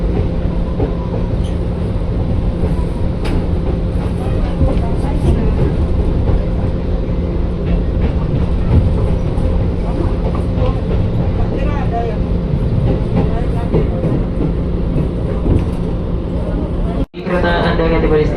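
A KRL commuter train in Jakarta, approaching Cikini station, rumbles steadily along the rails with a constant low drone and faint rattling, a brief sharp jolt near the end, voices murmuring underneath.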